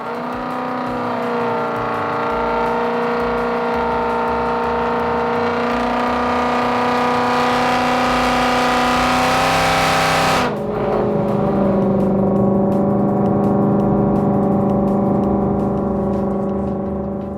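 A supercharged Coyote V8 in an S550 Mustang GT revs hard on a dyno, a loud sustained engine roar holding high revs for about ten seconds before cutting back and settling into a steady lower drone.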